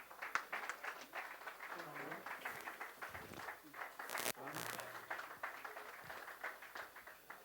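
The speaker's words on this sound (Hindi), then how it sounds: "हम सब जोरदार तालियों से इस अभिनंदन में शामिल हैं" An audience at a symposium hall applauds warmly, a steady patter of many hands clapping at moderate distance, fairly faint, with a few louder claps breaking through.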